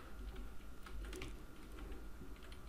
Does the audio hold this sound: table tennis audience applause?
no